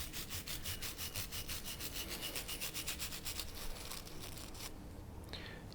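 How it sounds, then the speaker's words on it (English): A brush scrubs the locking grooves inside the slide of a Colt Model 1903 Pocket Hammerless pistol, making quick rhythmic close-up rasping strokes that stop near the end and leave a faint hiss. "You don't want to get too exuberant with scrubbing on this."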